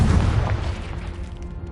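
A Confringo spell explosion in Hogwarts Legacy inside a cave, a single heavy boom up close that rumbles and slowly fades away.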